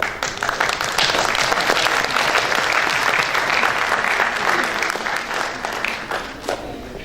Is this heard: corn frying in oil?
no